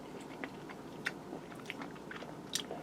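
Someone chews a crispy, broiled pork chop, with soft close crunches and bites scattered irregularly over a quiet background and no talking.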